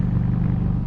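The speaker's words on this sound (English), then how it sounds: "Okay, I'm gonna do second gear pull" A 2015 Harley-Davidson Night Rod motorcycle pulls hard in second gear, a loud, close, steady engine roar filling the brief moment.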